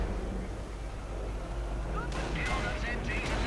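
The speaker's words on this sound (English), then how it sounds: "Cromwell opening further fire on the combined footsoldiers and stormtroopers, pinning them down." A tank gun and infantry rifles fire in a World War II strategy video game as a Cromwell tank pins down German troops, giving rumbling booms and crackling shots under a continuous low battlefield drone.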